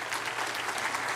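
Brief burst of congregation applause at a church service, a dense wash of clapping from many hands, moderately distant and steady throughout its short span.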